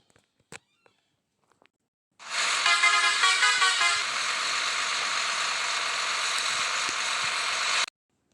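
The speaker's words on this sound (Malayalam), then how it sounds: "നമ്മൾ ഹോൺ അടിച്ചത്" Bus horn in the Bus Simulator Kerala video game, one long continuous blare held for several seconds after a few faint clicks, loud and alone.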